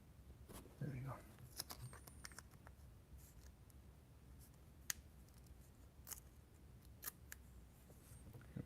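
Scissors cut a thin styrene plastic strip for a Corvair center console, giving a few quiet, sharp snips spaced over several seconds against a faint, hushed background.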